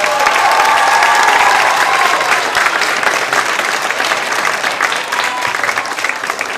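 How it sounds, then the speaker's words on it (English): A school audience at a middle school talent show breaks into loud, sustained applause for the performers, dense clapping with some crowd noise that tapers slightly toward the end. "Can we give all the performers a big round of applause"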